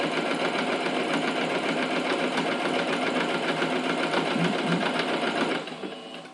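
A sewing machine runs in one long continuous burst stitching a pencil case with a volleyball-net mesh window, a steady rapid mechanical whir close to the microphone that stops abruptly near the end, leaving softer handling noise.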